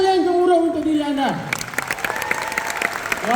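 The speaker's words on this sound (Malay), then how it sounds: "Satu tepukan paling gemuruh untuk diri anda." A speaker's voice trails off, then a hall audience at a recognition event for business founders breaks into loud, dense clapping that continues to the end.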